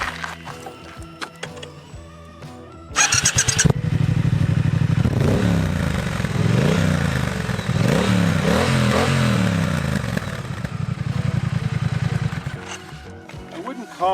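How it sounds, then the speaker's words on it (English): A Triumph Speed Twin motorcycle starts with a short burst of cranking, then its exhaust note rumbles at a fairly muted idle with several rising and falling revs before dropping back. "This exhaust note, while it's classically British, is just a little too subdued."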